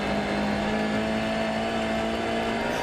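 A Volkswagen Polo R WRC rally car driven flat out on snow and ice through a frozen forest stage near a tunnel at the Monte Carlo Rally, its engine holding a loud, steady high-revving drone throughout.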